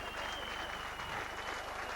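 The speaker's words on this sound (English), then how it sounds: "Bob Jackson getting a good round of applause from the Warrington supporters" Warrington rugby league supporters in a stadium crowd give a steady round of applause, heard from a distance under a low broadcast hum.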